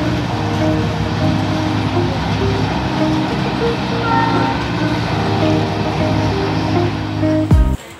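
A Konkan Railway train in motion during the monsoon, its loud continuous rumble and droning tones heard from on board, with a sharp clunk near the end.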